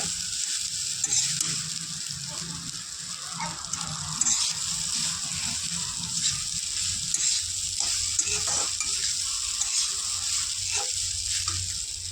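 Poha is stirred in a hot pan with a spoon, a continuous sizzling hiss and scraping strokes that go on steadily with no one talking.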